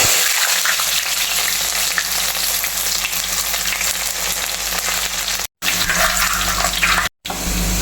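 Onion, green chilli and curry leaves fry in hot oil in a pan for a Kerala fish curry, giving a loud, steady, close sizzle that runs without a break and cuts out briefly twice near the end, with no talking.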